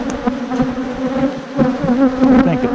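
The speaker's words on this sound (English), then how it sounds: "I got a damn bee inside my veil." A bee buzzing inside a beekeeper's veil while nucleus hives are being made, a loud, close, continuous wavering drone that swells and dips, with no talking.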